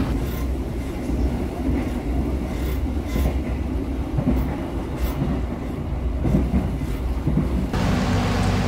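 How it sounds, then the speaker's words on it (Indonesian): Heavy rain pours on an executive-class train travelling from Malang to Jakarta, a constant rushing roar mixed with the low rumble and clatter of the moving train, with no voices. "Kedengar nggak suara air hujannya?"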